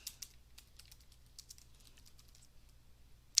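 Light keystrokes on a computer keyboard, scattered taps spread across a few seconds at a quiet, close level, with one sharper click near the end.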